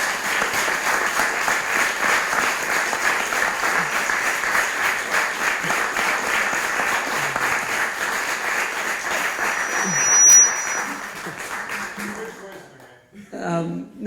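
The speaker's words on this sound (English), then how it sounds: "how about a round of applause for these guys?" Sustained applause from a conference audience at an international climate policy event fills about twelve seconds at steady, fairly loud level, then fades out while a voice briefly speaks.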